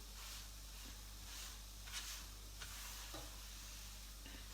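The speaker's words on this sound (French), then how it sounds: "Vous entendez toujours la casserole chanter." A saucepan of seafood blanquette sizzles quietly on the stove, a soft, steady frying hiss with a few faint clinks, and no voices.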